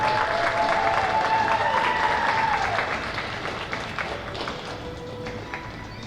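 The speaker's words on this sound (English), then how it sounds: "Let's give one more round of applause to contestant number 6, Bailey Mackey." Audience at a rodeo queen competition gives a sustained round of applause, a full crowd clapping steadily and slowly thinning out, with a voice briefly heard over the start.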